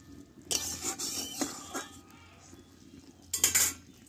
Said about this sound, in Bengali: আর এখানে দেবো আমি একটু ঘি দিয়ে নাড়াচাড়া করে নেব একটু